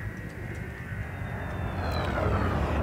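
A spaceship flying around a station in Elite: Dangerous: a steady rushing engine drone with a faint high whine sliding in pitch, building slightly louder over a few seconds, no voices.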